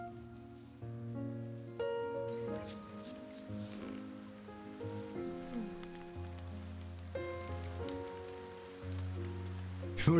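Steady rain falls in the video game Behind the Frame, a soft continuous patter beneath a calm tonal music bed with sustained piano-like notes.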